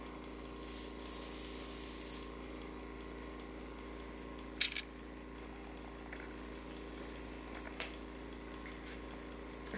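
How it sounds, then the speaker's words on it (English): Airbrush makeup system spraying onto a towel, a steady soft hiss of airflow running under the whole stretch, with a brief burst partway through. "And then spray the rest on a towel."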